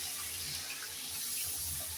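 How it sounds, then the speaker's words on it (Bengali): Hot water poured steadily into a cooking pot, a continuous splashing pour with no break over two seconds. "এখন এই জলটা আমি দিয়ে দিচ্ছি।"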